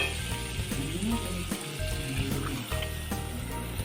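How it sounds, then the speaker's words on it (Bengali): Water poured into a hot pan of mashed tomatoes, a loud close sizzle and bubbling hiss that carries steadily throughout with a few faint clinks, and no speech. "এবার আমি ভালো করে জল দিয়ে দেবো"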